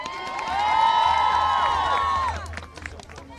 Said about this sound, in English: give a round of applause to the mayor again